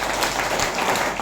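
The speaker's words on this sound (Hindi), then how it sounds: "एक बार तालियां बजाएं आप अपने लिए।" An audience at a direct-selling business seminar claps, a brief, steady wash of applause with no break across the short moment.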